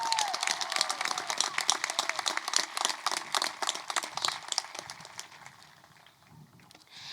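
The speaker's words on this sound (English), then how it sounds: "So let's give it a round of applause for the class of 2021." A crowd at a high school graduation ceremony claps for the graduating class of 2021, sharp individual claps spread across a broad steady applause that thins out and fades near the end.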